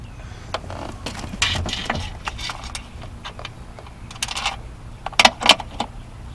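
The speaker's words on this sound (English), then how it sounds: "Now it's just going to be going around tightening all these and snugging them down" Ratcheting and small metallic clicks from tightening 10mm bolts on a metal BMW valve cover, in short bursts of work close up, with brief rattles near the end.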